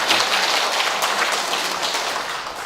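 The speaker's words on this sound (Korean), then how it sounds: "박수 한번 주십시오." Audience at a Korean academic seminar on the Naju Na clan's patriotic history claps steadily, a dense, continuous wash of applause sustained at even loudness throughout.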